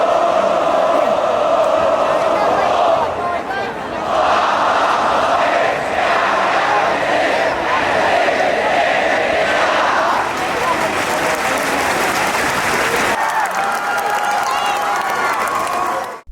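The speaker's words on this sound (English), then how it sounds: "I really enjoyed how everyone seemed to be so into the cheers with synchronized chants and claps." A large crowd at a Thai high school soccer match cheers loudly and continuously, with voices rising together in synchronized chants over dense clapping, shifting briefly toward the end.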